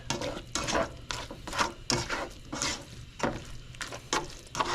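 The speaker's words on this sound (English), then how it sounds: "just keep stirring your meat mixture" A meat mixture being stirred around in a pan, with repeated scraping strokes of a utensil against the pan at a steady rhythm, faint light sizzling underneath, and no talking.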